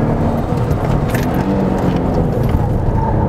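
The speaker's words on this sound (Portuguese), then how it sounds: "Aqui estamos numa pista, então dá pra acelerar. Ó, segundinha." Loud, close engine drone from a Subaru GT 2000 with all-wheel drive pulling in second gear on a track, a dense, steady mechanical roar with wind and road rumble and no talking.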